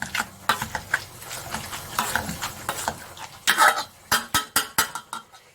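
Steamed broccoli mashed with butter and pink salt, giving a series of soft squelchy thumps and utensil clinks against a pot, irregular and close, growing sharper toward the end.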